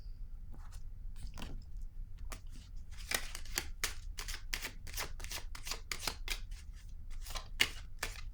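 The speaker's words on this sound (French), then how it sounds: "Attendez, je vais piger une autre carte ici." A card is drawn from a deck and the cards are handled, giving a quick run of crisp, close, papery snaps and flicks, with a few soft scrapes before them and no voices.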